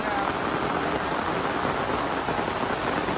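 Heavy rain mixed with hail pours down steadily at the tomb of artist Vũ Linh, a dense, even, close hiss with no voices.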